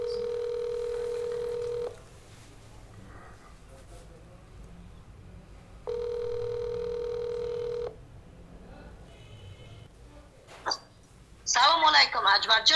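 A mobile phone call rings out with two long, steady ringback tones separated by a pause, faint room noise between them, and a voice answering at the end.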